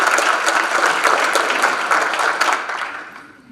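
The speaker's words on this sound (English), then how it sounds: "And let's have a big round of applause for Nina and everybody who put this together" Sustained audience applause at a 2019 Citizen of the Year awards ceremony, a dense wash of many hands clapping that holds steady before tapering off near the end.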